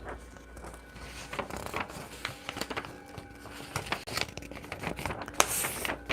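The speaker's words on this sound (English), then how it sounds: "All right, I'll use this piece of paper here." A sheet of paper being handled, crinkling and rustling in short irregular bursts close by, with a few sharper crackles toward the end.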